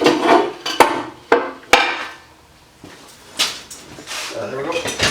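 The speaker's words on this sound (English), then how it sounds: "We need our chisel." Sharp metal strikes of a hammer driving a chisel into a lighting transformer being scrapped, several hits in an uneven burst then a few later knocks, close and loud, with a person talking between them.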